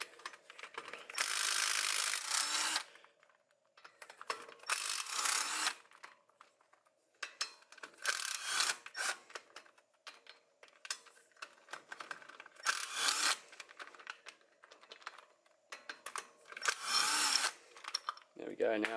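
8mm hex bolts on an Isuzu front wheel hub being undone with a ratchet, giving close, loud bursts of rapid clicking separated by short pauses, repeated several times as the bolts come loose.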